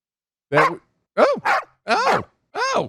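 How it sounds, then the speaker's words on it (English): A dog barks four times in close succession, loud and near, with short gaps between the yips and bow-wows and no talk over it. "I heard him bark."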